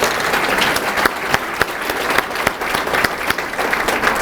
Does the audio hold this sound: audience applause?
yes